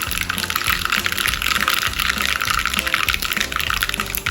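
Mustard seeds splutter in hot oil while tempering for sambar, a dense and continuous crackling sizzle close up, with no pauses and no voices.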